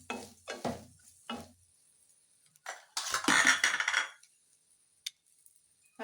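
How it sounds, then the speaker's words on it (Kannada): Grated dry coconut frying in a pan while being stirred, heard as scattered scraping and clinking bursts of a utensil against the pan, with a louder flurry of stirring midway and quiet gaps between. "ಕೊಬ್ಬರಿ ತುರಿ ಹಾಕಿ ಚೆನ್ನಾಗಿ ಫ್ರೈ ಮಾಡ್ಕೊಳ್ಳಿ"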